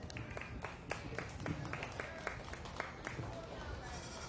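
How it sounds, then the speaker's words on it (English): Audience applauding at a dairy and pygmy goat show after a doe is judged, a steady patter of many hands clapping at moderate distance, with a faint voice underneath. "Let's give a nice round of applause"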